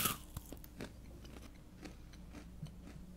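Crunchy bites and chewing of yakgwa, a Korean honey cookie, eaten with tea during a quiet tea ceremony; a few soft, close crunches spaced out over a faint background, with no talk.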